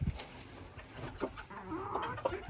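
Hens cluck softly nearby, a few short scattered calls over a quiet farmyard background.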